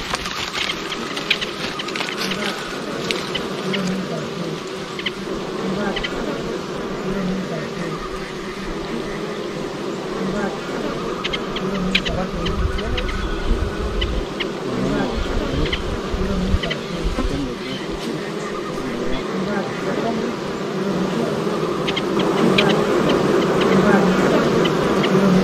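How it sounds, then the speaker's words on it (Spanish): Bees buzz densely around wooden beehive boxes on a coffee plot in Guatemala, a loud constant drone with individual insects passing close by and occasional light taps, growing slightly louder toward the end. "Importante mostrarles las cajas de abeja que tengo en mi parcela"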